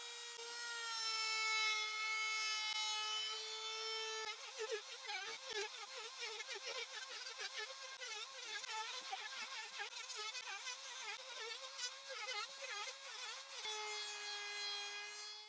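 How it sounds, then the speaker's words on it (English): A router fitted with a 30mm rounding bit shapes the edges of an old wooden kitchen piece, giving a steady high motor whine that turns rough and fluttering while cutting, then settles back to a clean whine. "Using a router equipped with a 30mm rounding bit, I'll round off all the edges of the item"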